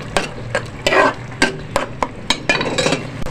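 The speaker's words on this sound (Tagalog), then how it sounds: "Tapos haluin lang natin." Moringa pods with pepper and salt are stirred in a pan, a close series of sharp metallic scrapes and clacks of a spoon against the pan repeating at an uneven rhythm over a faint sizzle.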